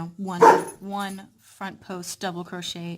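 A pet dog barks indoors during a crochet cable tutorial: a short bark bursts out near the start while a person keeps talking over and around it.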